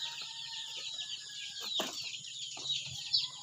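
Young chicks on a free-range chicken farm peep and cluck softly at middle distance, with occasional chirps and one brief flutter-like burst amid steady outdoor background noise.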